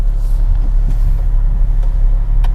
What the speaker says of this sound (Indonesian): Ini keadaan mesin sedang menyala ketika mengecas.